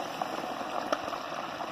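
Liquid bubbling up in a container, faint soft gurgles and small pops scattered across a quiet, hissy background.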